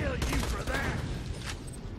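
An iridium weapon firing in the shooter Borderlands 2, a rapid crackling burst of shots layered with whooshing energy tones over busy combat noise.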